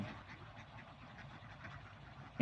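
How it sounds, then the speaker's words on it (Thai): A cluster of free-ranging egg-laying ducks quacking in a field in a low, continuous murmur, moderately distant, ending with a sudden louder burst. "เป็ดไล่ทุ่ง"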